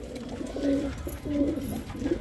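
King pigeons cooing close by in a coop, a pair of low, throaty coos rising and falling in repeated phrases with no talk.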